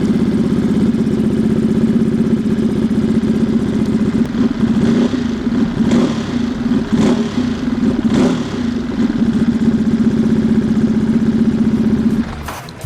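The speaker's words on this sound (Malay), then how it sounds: "saya belanjakan sikit bunyi motor Monster 937 ni macam mana." A Ducati Monster 937 motorcycle fitted with an SC Project exhaust idles close by, a steady, loud, throbbing rumble held for about twelve seconds before it briefly dips at the end.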